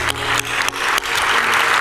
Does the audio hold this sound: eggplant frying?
no